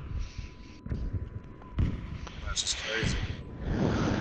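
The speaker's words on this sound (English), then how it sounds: "Artillery, artillery stack." Artillery shells land in Battlefield 5, a few sharp booming impacts scattered over several seconds amid game noise, with people talking over them.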